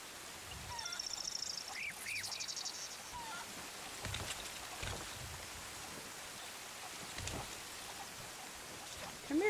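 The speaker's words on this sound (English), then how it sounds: "I hear a chicken." A chicken in the pirate game Sea of Thieves gives a few short, faint clucks among soft outdoor ambience and patter, with quiet gaps between the calls.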